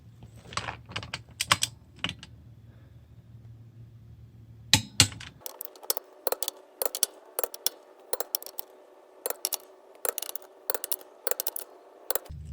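A torque wrench tightens ring gear bolts on a Ford 8.8 axle, heard as sharp metallic clicks, first a few scattered ones, then a long rhythmic run of evenly spaced clicks, close and distinct against quiet surroundings.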